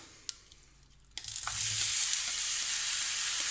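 Marinade, tofu and cauliflower hit a lightly oiled pan on medium heat: a couple of quiet knocks, then a sudden loud hiss that settles into a steady, close sizzle.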